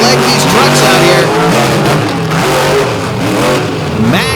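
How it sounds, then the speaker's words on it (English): A monster truck engine at the 2024 Monsters on the Beach show revs hard and climbs in pitch as it attacks sandy beach ramps, loud and continuous, with commentary over it. "They're really able to leg these trucks out here."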